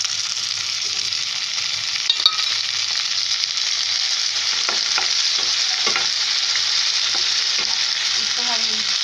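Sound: tomatoes frying in pan for santula

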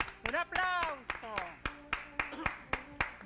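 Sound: audience applause

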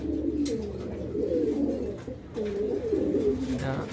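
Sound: pigeons cooing in a loft

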